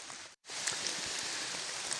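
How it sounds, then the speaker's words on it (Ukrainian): Rain falling in a forest during mushroom picking, a steady close hiss of drops on leaves and gear with one brief silent gap near the start. "дощ йде"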